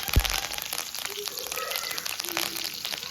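Fennel seeds and a clove sizzling in hot oil for jackfruit curry, a steady crackling fry with a sharp clatter at the start and a voice talking faintly over it.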